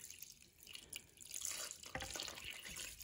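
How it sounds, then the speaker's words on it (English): Water is poured over corned beef brisket in a Dutch oven, a quiet splashing and trickling stream with a few louder gushes toward the end. "And then I put water in."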